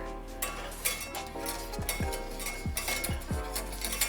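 A spoon stirs a gelatin mixture in a metal pot for homemade sour gummy candies, scraping and clinking against the sides with a few sharp knocks over a low background hum.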